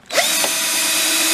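A power drill whirs up loudly and runs steadily at high speed, close by, drilling holes into the corners of a cigar box, with no talking.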